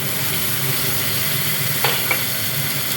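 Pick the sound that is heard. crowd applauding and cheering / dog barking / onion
onion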